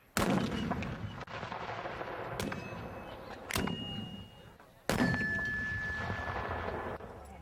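Loud cannon blasts boom one after another at an artillery shooting competition, each followed by a long rumbling echo that fades out, heard outdoors with no talking.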